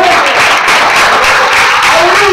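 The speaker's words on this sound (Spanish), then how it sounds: "¡Denle un aplauso al Señor!" A loud burst of congregational applause in church, dense clapping that fills the room for a couple of seconds, with faint shouts mixed in.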